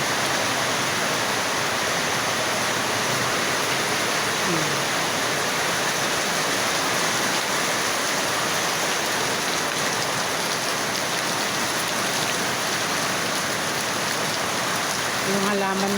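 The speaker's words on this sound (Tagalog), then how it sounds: "Medyo malakas yung ulan." A hard, continuous downpour hisses evenly throughout, close and loud, with scattered drops pattering on surfaces and a faint tonal sound near the very end, without talking.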